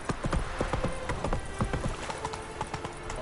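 Roach, the horse in The Witcher 3, trots with a steady, close clip-clop of hooves, the beats fairly regular and crisp over a low game ambience.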